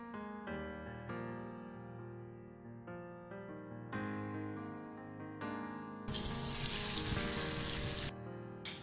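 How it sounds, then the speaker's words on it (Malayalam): Fish pieces for a Kerala-style tuna pickle deep-fry in hot oil. The steady sizzle sits under background music and swells into a loud, hissing burst near the end. "മീൻ കഷ്ണങ്ങൾ ഒരു 2-3 ബാച്ചായിട്ട് നമുക്ക് ഫ്രൈ ചെയ്ത് എടുക്കണം"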